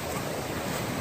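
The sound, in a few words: river water flowing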